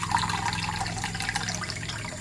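Two liters of water poured into a cooking pot, a steady continuous splashing and filling sound, fairly loud and close, with no talking.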